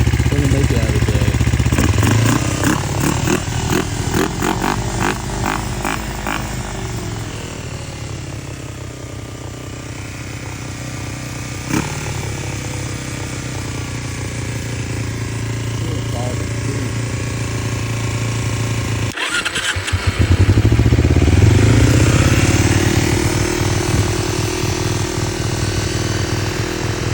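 A 2006 Kawasaki Ninja 250 motorcycle engine is warm-started and runs with a steady, loud, uneven idle, sputtering at times as if low on fuel, with a brief cutout and restart late on.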